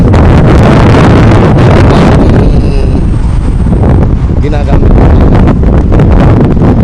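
Heavy wind buffets the microphone in a constant loud roar, with a voice speaking briefly underneath.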